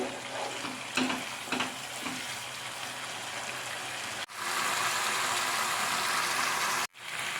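Masala with a couple of spoons of sour yogurt frying in oil over a high gas flame for tofu masala, a steady dense crackling sizzle close by, with a few stirring bumps early on, then a sudden louder, brighter surge.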